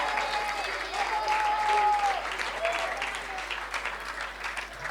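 Audience applause at a French public-services awards ceremony, a continuous patter of many hands clapping at moderate volume, with a faint voice and whistle-like tones over it.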